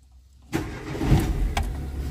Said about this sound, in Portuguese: E o carro funciona.